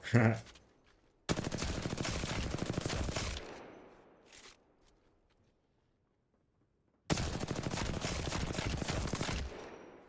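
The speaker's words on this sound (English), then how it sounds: "I'm not trying to actually shoot the target, I'm just showing you like the recoil" Two long bursts of sustained automatic gunfire in a video game shooter, each lasting a couple of seconds and separated by a quiet gap, loud and rapid with a dense rattling rhythm.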